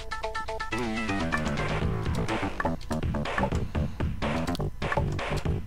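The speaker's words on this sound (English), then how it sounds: "that is the Toxic Caves music from Sonic Spinball for the Sega Genesis" Toxic Caves music from Sonic Spinball for the Sega Genesis plays steadily, a dense chiptune track with busy melodic lines and driving bass and percussion at an even, constant level.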